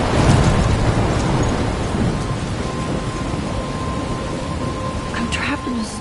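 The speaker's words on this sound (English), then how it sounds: "I'm trapped in a storm?" Thunderstorm in the video game Life is Strange: loud, steady rain hisses over a deep, rolling rumble of thunder that swells at the start and then eases, with the downpour continuing throughout.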